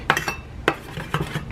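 A whisk clinks and scrapes against a bowl while mixing sandwich dressing, several quick, close metallic taps in an irregular rhythm.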